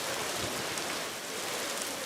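Heavy rain pouring onto empty streets in Diyarbakir, a loud, unbroken wash of hiss and patter that stays level from start to finish, with no one talking.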